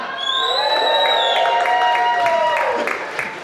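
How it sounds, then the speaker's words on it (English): A crowd cheers and whoops at an awards ceremony, loud and sustained, with clapping mixed in and high-pitched voices rising over the noise. "Give us a cheer."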